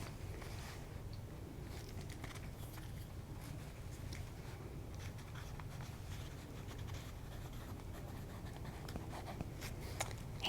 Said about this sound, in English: I'm going to write these down on the paper.